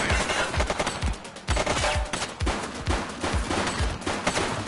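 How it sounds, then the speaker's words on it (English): Gunfire in the video game The Precinct: a steady, rapid stream of loud, close automatic shots runs the whole time with a dense action background behind it. "She's shooting!"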